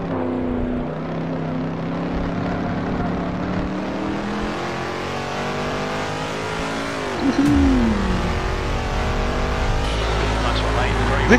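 A Shelby 427 Cobra in the Assetto Corsa racing game revs and slides, its engine droning loudly with shifting pitch and a sweeping wail near the end, while a voice talks over it.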